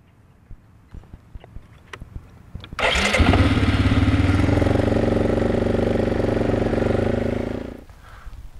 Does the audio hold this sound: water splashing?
no